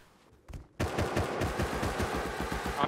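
Automatic rifle fire in the survival video game Rust: after a brief muffled thump, a loud, sustained burst of rapid, evenly spaced shots lasts to the end without pause.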